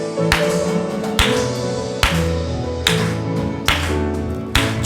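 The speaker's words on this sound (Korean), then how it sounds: "박수치며 찬양합니다." A Korean church congregation claps in a steady beat, roughly one sharp clap a second, during an Advent Sunday service. The claps ring out over sustained tonal music.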